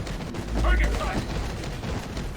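Gunfire in the video game Marvel: Ultimate Alliance 2, a short burst of heavy shots with a deep boom, brief and fairly loud, heard alongside a character's shouted speech.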